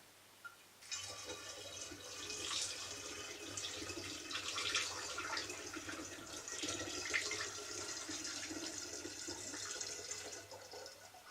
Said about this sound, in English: Green tea now gets poured in.